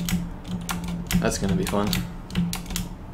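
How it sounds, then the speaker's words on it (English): Loud computer keyboard typing during a Deus Ex: Human Revolution gaming session: rapid clustered key clicks running throughout, close and prominent, with someone talking over them. "if you think my keyboard is loud now, wait until I have to start mashing through text"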